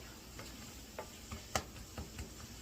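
Scallions and butter sautéing in a pan for rice, a quiet continuous sizzle with a few light ticks and taps of a utensil against the pan.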